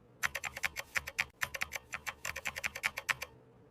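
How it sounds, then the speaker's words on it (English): Computer keyboard keys click in quick uneven bursts of close, crisp taps as the keyboard is cleaned, with a brief pause partway through and no voices. "I clean my keyboard."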